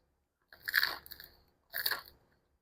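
Two crisp, crunchy bites into toasted bread topped with a slice of fresh tomato and Boschini cheese, each bite a short close-up crackle separated by a brief pause, with no talking.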